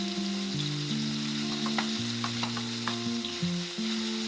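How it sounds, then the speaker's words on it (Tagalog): Pork stirred in a pan with sautéed onion and garlic, a steady loud sizzle of frying throughout, with scattered scraping taps of the utensil against the pan and a sustained background tone, no speech. "At halu-haluin na natin para kumapit yung lasa ng sibuyas at bawang sa karne."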